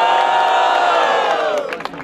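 A crowd roars and cheers at a Brazilian rap battle, first-round showdown: a dense, loud wall of shouting voices that holds steady, then thins and breaks into scattered whoops near the end.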